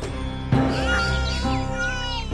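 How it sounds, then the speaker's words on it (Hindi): A newborn baby girl cries in a forest, a wavering, high wail rising and falling over about two seconds, close and fairly loud above a steady tonal background. "इस जंगल में बच्चे के रोने की आवाज।"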